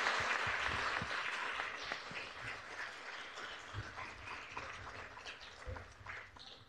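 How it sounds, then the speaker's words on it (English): After a university lecture, the audience breaks into fairly quiet, scattered applause that starts fuller and gradually thins out, with some low thumps mixed in. "I'd like to give all of us another round of applause and thank our speaker"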